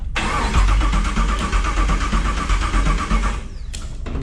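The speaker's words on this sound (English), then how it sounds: "hey, hit the starter button again" A starter cranks a swapped LS engine in a Demo Ranch El Chromino, a loud rhythmic whirring chug that runs for about three seconds without catching, then cuts off, leaving a brief clunk and quiet.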